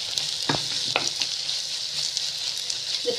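Onions sautéing in a pan for a village-style chicken curry, a steady close sizzle with a few scraping stirs of a utensil and no talking.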